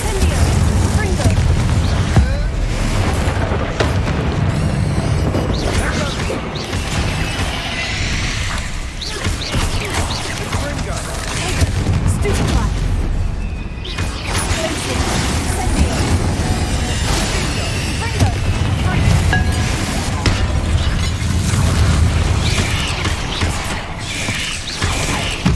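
Confringo blasting spell explosions in the video game Hogwarts Legacy, with repeated booms and crackling blasts over a continuous dense game soundscape with mechanical clatter, under intermittent talking.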